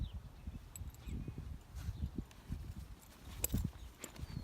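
A horse's hooves step slowly on soft ground during a training session, with irregular dull thuds close by and light rustling between them.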